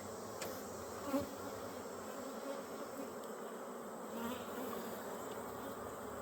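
Honey bees drone steadily inside an open 10-frame brood box of a hive, a dense continuous buzz with a few individual bees flying close past, no talking.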